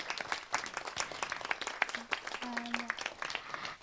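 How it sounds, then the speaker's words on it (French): Scattered, crisp clapping from an audience at an evening science gala, a thin and fairly quiet round of individual hand claps, with some voices murmuring underneath. "Je pense qu'il mérite un gros applaudissement."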